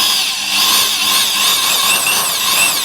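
A Tekhmann TLD-13/126 electric drill running in a drill press, a loud steady motor whine with wavering high-pitched tones, continuous and close.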